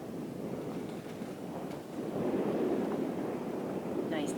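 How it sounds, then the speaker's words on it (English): A gust of wind sweeps over open water while sailing toward the mangroves, a steady broadband rush that swells louder partway through and holds, with boat and water noise beneath. "Nice gust of wind."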